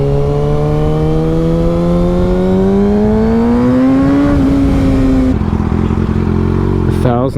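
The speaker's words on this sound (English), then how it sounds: "I just realized how loud my bike is." A very loud motorcycle engine runs close by, its tone climbing steadily as it revs, then dropping back to a rougher, lower note near the end.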